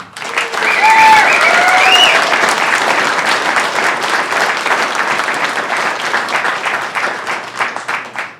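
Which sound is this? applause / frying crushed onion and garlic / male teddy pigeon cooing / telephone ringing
applause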